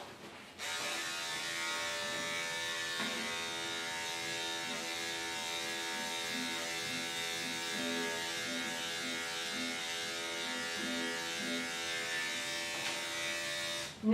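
Electric clippers fitted with a 10 blade groom a Corgi Aussie mix's coat, a close, steady buzzing hum that runs almost without a break and has no talk over it.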